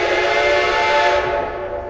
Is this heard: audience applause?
no